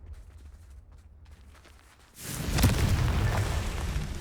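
A Confringo spell explosion from Hogwarts Legacy bursts in with a loud, deep boom after a quieter stretch, then rumbles on with a sustained crackling roar.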